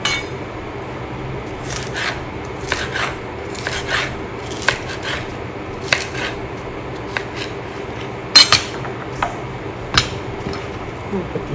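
Knife slicing vegetables on a cutting board for an Italian-style pasta salad: a steady series of light, crisp chops and taps at an even pace, close and moderate in level, with an occasional sharper clack.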